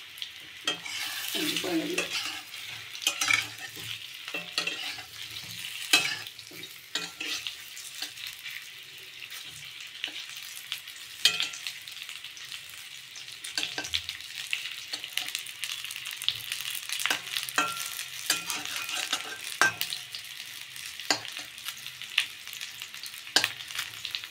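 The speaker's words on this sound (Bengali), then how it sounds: "আর এবার হবে ভাজা পুলিটা। দিয়ে দিয়েছি কড়াইতে, ঘি দিয়ে দিলাম।" Puli pitha dumplings fry in ghee in a wok, a soft continuous sizzle broken by frequent sharp scrapes and clicks of stirring, close and steady, with no talking.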